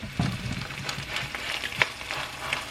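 A low carb wrap laid over eggs cooking in a hot pan for a keto breakfast quesadilla, giving a steady soft sizzle with a few light scrapes and taps, close and moderately quiet, with no talking.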